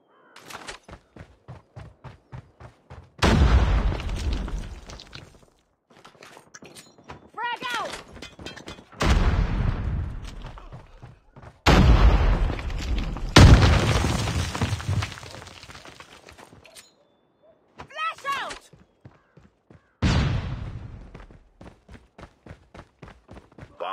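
Loud bursts of gunfire and heavy blasts, including grenade explosions, erupt in a Call of Duty search-and-destroy match, separated by quiet gaps filled with rapid footsteps and shouted callouts.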